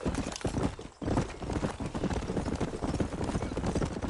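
Horse galloping in Red Dead Redemption on PS4, fast continuous hoofbeats pounding in a steady rhythm, loud and close throughout, with a brief dip near the one-second mark.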